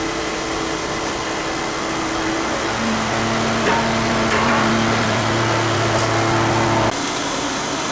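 A Cats Cradle forge roars steadily while heating a rasp for knife making, a continuous loud broadband whoosh with a low hum underneath and a few faint clanks near the end.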